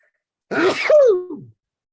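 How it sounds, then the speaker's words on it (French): A single loud, close sneeze, a sharp inhaled build-up bursting into a quick explosive release, with silence before and after. "Attention, je vais éternuer."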